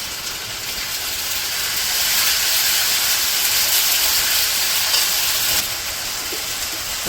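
Ginger garlic paste hitting hot mustard oil with onion and turmeric for a Bangladeshi village-style beef curry, a loud, steady sizzling hiss that swells and holds for several seconds, with no talking.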